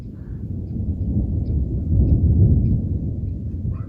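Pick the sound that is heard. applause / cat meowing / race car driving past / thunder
thunder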